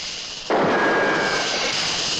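A sudden loud gunshot-like blast rings out as a rattlesnake is shot at in the 1973 film Westworld, followed by a sustained bright hiss of noise that holds for nearly two seconds.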